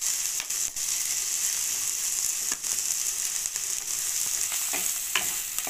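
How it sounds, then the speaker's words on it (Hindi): Finely chopped capsicum sautéing lightly in a pan for a mixed vegetable paratha, a steady close hiss of sizzling oil with scattered crackles and occasional soft stirring clicks. "बारीक कटा हुआ शिमला मिर्च डाल दिया मैंने इसमें और अब इसे भी मैं हल्का भून लूँगी"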